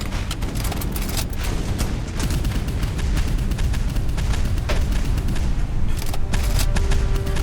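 Twin Bofors guns on a PT boat in a naval combat game pound away in dense, continuous bursts, rapid heavy reports stacking with booming impacts, loud and close throughout with no voices.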